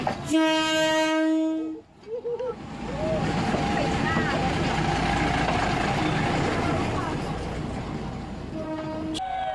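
A loud train horn blares, then a train rumbles steadily past nearby through a railway market where vendors sell on the tracks, with screeching, clattering wheels, and the horn sounds briefly again at the end.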